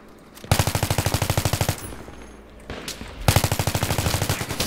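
Rapid automatic gunfire from a military shooter video game, two sustained bursts of evenly spaced loud shots separated by a short gap, with no talking over them.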